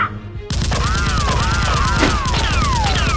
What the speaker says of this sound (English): One of the soldiers returns fire at Tony.